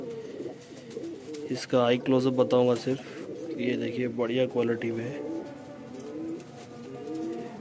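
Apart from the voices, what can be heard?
pigeon cooing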